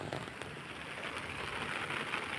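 Steady rain falls on a grassy farm field and patters on an umbrella overhead, a dense even hiss that runs unbroken throughout, fairly loud and close, with nobody speaking.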